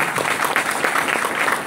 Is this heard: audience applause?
yes